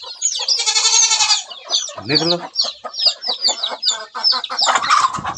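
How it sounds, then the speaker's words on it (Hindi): Village hens cluck and squawk loudly up close as they come out of a covered coop on a cold day, a busy run of short clucks and calls, with a brief human voice calling them out. "इस गुहार में से मुर्गियां निकल रही है"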